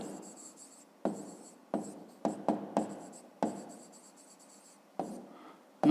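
Handwriting during a fifth-grade math exercise: a pen or pencil taps and scratches on paper in short separate bursts, close and quiet, with brief silences between strokes.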